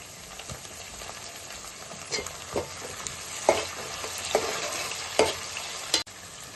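Chopped tomatoes tipped into softened onions frying in a pan, a continuous close sizzle with several sharp stirring scrapes and knocks of a spoon against the vessel, no voices.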